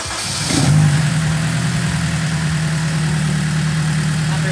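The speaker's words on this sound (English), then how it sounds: "you might hear a little bit of bump on the idle, but it's not that bad." A Honda S2000 with a K-series engine is started and settles into a steady idle with a slight cam lope, close and continuous with no talking.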